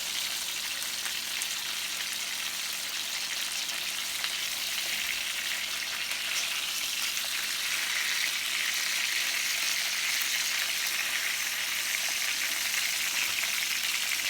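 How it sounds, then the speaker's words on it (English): Chicken legs and breast pieces sear in a hot skillet for arroz con pollo, giving a steady, dense crackling sizzle that holds without break, close and fairly loud with no voices. "We're going to let this side sear."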